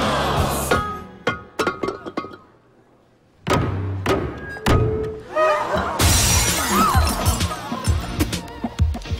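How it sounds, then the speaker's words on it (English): The maid of honor smashes a vase as a wedding tradition, a loud shattering crash with scattered thuds and tinkling fragments, followed by several more breaking impacts amid voices and commotion. "The maid of honor shatters a vase, and it symbolizes happiness for the bride and groom."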